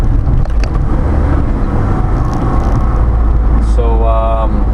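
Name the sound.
1988 Honda Acty kei truck driving while shifting gears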